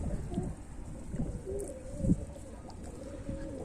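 Rooftop loft pigeons coo in soft, low repeated phrases over a steady outdoor hum, several birds close by with a faint flutter now and then.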